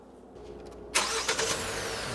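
A car engine turns over and catches, then settles into a steady mid-pitched idle for an alternator charging check. A brief burst marks the start, then the running stays close and even, with no talk.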